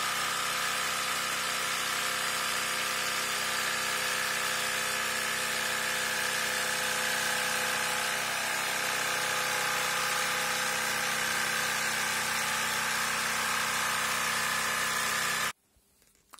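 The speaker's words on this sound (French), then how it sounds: "on utilise un guide et la scie sauteuse avec une lame adaptée pour faire ça." A jigsaw buzzes steadily through an oak board for about fifteen seconds, loud and close, then stops abruptly.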